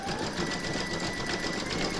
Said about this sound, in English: load your hoop into your machine and stitch round number 7